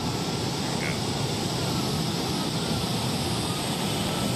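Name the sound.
jet engines on a souped-up pulling tractor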